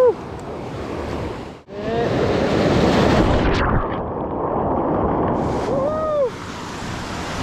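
Pacific Ocean waves off the coast of Ecuador, a loud, steady wash of surf with wind buffeting the microphone and a brief dip near the start.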